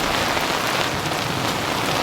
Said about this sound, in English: rain's coming down pretty significantly at this point